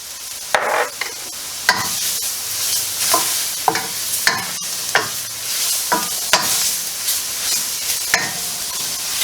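Garlic hits a hot pan of cooked flour for beef stroganoff, bursting into a loud, steady sizzle with repeated sharp scrapes and stirs of a utensil roughly every second, close and without talk.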